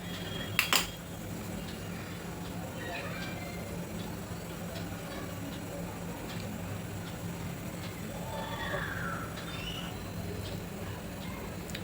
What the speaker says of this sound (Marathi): मेथीची भाजी बनवण्यासाठी मी आता गॅसवर कढई ठेवली आहे